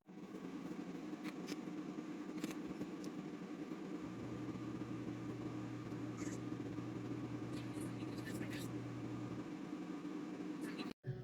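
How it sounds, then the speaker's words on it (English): A hood hair dryer hums steadily in a continuous, even drone with a constant airflow hiss and a low tone shifting partway through, close and unbroken until a sudden cutoff at the end. "we're sitting under the dryer for 1 hour."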